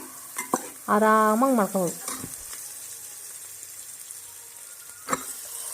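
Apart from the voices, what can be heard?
onions frying in a pan while stirred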